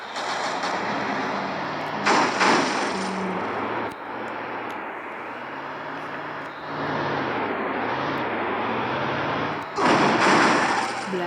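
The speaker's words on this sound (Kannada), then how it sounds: "ಬ್ಲಾಸ್ಟ್ ಆಗೋಯ್ತು ನನ್ನ ಗಾಡಿ" Vehicle blast and gunfire in a battle royale video game, heard as loud bursts of broadband crackle over a steady engine drone, with sharp shots near the start, middle and end.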